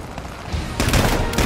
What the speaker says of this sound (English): Explosions everywhere, go.